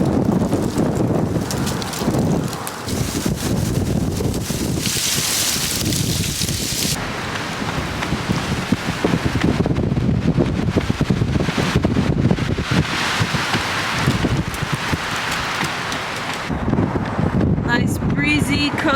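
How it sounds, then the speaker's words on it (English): Strong coastal wind in Cozumel buffets the microphone in continuous roaring gusts, loud and rumbling throughout, with rain-like hiss and faint voices buried underneath. "But it's really windy."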